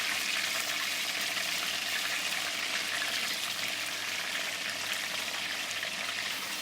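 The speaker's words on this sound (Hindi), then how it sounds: "हम चिकन को जो है ना लाइटली ब्राउन करेंगे" A kilo of chicken frying and lightly browning in a pan for wedding-style degi korma, a steady dense sizzle that holds loud and even throughout, with no talk.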